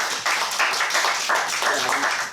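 Brief, brisk clapping from a small group at a gaming community meetup, fairly close and lively, lasting a couple of seconds.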